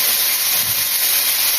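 Lamb browning in a hot pan for a Greek youvetsi, giving a steady, loud, close sizzle with constant hissing and no break or speech.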